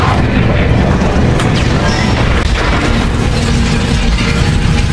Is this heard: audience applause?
no